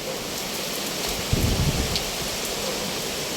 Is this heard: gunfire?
no